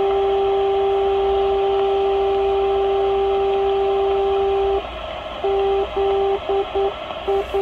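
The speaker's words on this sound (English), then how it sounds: "So this is St. Hubert Airport and the Morse code of this station" St. Hubert Airport NDB beacon near Montreal received on a Tecsun H-501X longwave radio: a steady carrier tone that then breaks into keyed Morse code dots and dashes, clear over a hiss of static.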